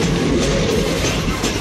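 A train passing close by on a Pune-bound line near the Konkan Kanya express, its steady loud rumble and rolling wheel noise filling the whole stretch without a break.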